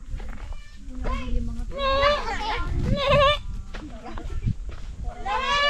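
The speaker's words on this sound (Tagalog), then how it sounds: "Katayin na natin yung kambing ni Dana, oh" Several loud goat bleats close by in a rural Philippine province during a birthday celebration, wavering cries repeated with short gaps, over background rustle and some people talking.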